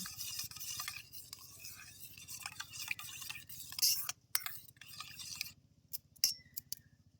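Dry yeast being stirred into sweetened milk in a bowl, a spoon scraping and clinking in short bursts against the sides, close and fairly quiet, with pauses between strokes.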